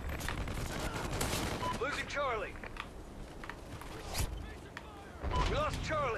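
Gunfire in the shooter video game Call of Duty: Ghosts, with several sharp, loud shots and short bursts scattered over steady in-game background noise and mechanical clatter.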